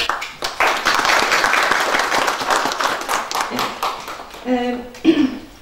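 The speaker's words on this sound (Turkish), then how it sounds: "Biz kendisini sahneye davet ediyoruz alkışlarınızla" Audience applause welcomes a professor onto the stage at an academic lecture on Upper Palaeolithic stone tools, a dense, steady patter of many hands for several seconds that thins out, with a voice and brief tones near the end.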